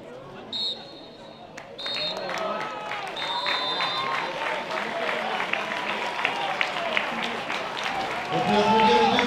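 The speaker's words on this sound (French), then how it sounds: "On peut applaudir les deux équipes." Stadium crowd at the Argentina versus Saudi Arabia football match applauding both teams, a broad wash of clapping and cheering with a commentator talking over it throughout.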